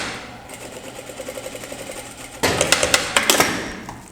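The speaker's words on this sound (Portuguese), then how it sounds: "nessa costura da lateral da calça, eu estico ali e passo uma costurinha ali" A sewing machine runs along the side seam of a pair of trousers. A soft, rapid stitching rhythm gives way to a louder, sharper run of stitches partway through, close up and alone with no talking.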